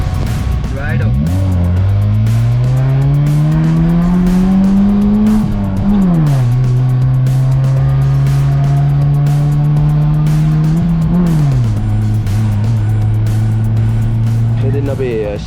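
White Subaru STI rolling past close by at a car workshop reopening, a loud steady engine note that rises and dips as it shifts, with tyre noise beneath and people talking over it.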